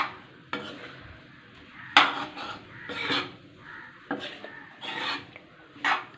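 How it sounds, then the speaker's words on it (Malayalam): Homemade mango pickle is stirred in a pot, each stroke a short rasping scrape of the spoon against the pot. About half a dozen separate scrapes come at an uneven pace, close and moderately quiet, with no talking. "ഇനി നല്ല രീതിയിൽ ഒന്ന് മിക്സ് ചെയ്യാം"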